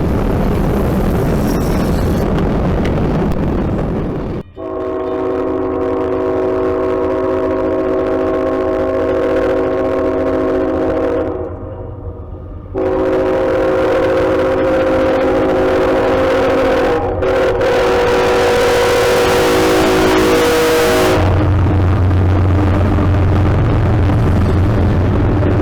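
CSX 3446 freight locomotive roaring past at close range, a loud, sustained thunderous engine drone with steady harmonic tones and deep rumble that holds for over fifteen seconds, briefly dipping midway before swelling again.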